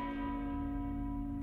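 A church bell in the video game Blasphemous 2 rings with one sustained, resonant tone that hums steadily and clearly on its own, with no voices over it.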